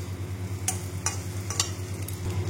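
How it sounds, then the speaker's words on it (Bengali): Potatoes fry lightly in oil, a quiet sizzle with a few soft stirring scrapes over a steady low hum, no one talking. "হালকা একটুখানি ভেজে নেব।"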